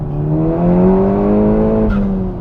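Seat Leon Cupra R engine and exhaust rising under acceleration, a loud, close, buzzy rev climbing smoothly before a quick shift blip near the end.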